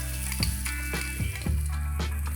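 Finely chopped garlic cloves frying in a spoonful of oil in a pan for street-style veg momos, a steady close sizzle with a low hum and a few soft clinks.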